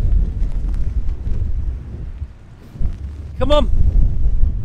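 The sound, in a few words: strong wind blowing in Scotland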